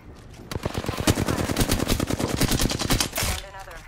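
Gunfire in Apex Legends, a loud, close, sustained automatic burst of rapid, evenly spaced shots lasting about three seconds, then a short pause.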